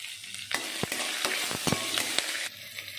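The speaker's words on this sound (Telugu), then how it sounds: "ఆవాలు జీలకర్ర తర్వాత కరేపాకు పచ్చిమిర్చి పచ్చిమిర్చి ఇట్లా చీలికలు చేసుకొని వేసుకోవాలి" Mustard seeds, cumin, curry leaves and slit green chillies crackle and spit in hot oil as a rice dish begins, with steady sizzling broken by sharp pops and spoon scrapes through the middle before settling to a quieter hiss.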